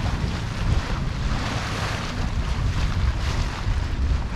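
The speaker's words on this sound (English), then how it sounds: "Just enjoying the scenery and the sound of the wind and the waves." Steady wind rushing over the microphone mixes with the continuous wash of ocean waves aboard a sailboat running downwind under a spinnaker on autopilot, loud and unbroken with no voices.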